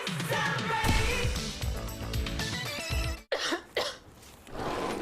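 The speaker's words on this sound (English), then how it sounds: "that cough looks pretty bad" A woman coughs several times in a harsh, chesty burst after music plays, the coughs coming close and loud in short, uneven bursts.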